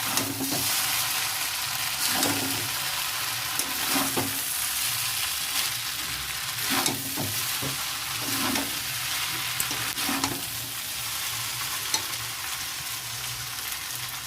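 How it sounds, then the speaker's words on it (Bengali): Salted food is stirred in a frying pan over a steady sizzle, with a spatula scraping and knocking against the pan in irregular strokes every couple of seconds. The cooking sounds run close and continuous throughout. "এবার এটাকে নেড়ে চেড়ে নামিয়ে দিই"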